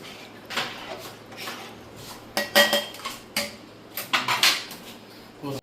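Chettinad mutton biryani with seeta samba rice is stirred in a pot, producing irregular metallic scrapes and clanks of a spoon against the vessel, several in quick clusters, close and fairly loud.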